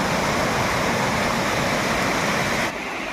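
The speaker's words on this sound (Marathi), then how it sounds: "पुलाच्या तिथं कसा वॉटरफॉल आहे बघा आपला छोटासा धबधबा" A small waterfall spills beside a stream bridge in a village area during the first rains, making a steady, loud, close rushing wash that runs continuously before dropping slightly in level near the end.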